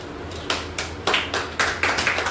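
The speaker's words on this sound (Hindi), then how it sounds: "जोरदार तालियों से स्वागत कीजिए मैडम का।" Hand claps welcoming a woman at a company achievers gathering, a short run of evenly spaced single claps about half a second apart over a low room hum, close and moderate.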